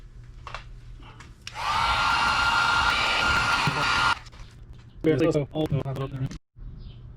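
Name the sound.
heat gun blowing hot air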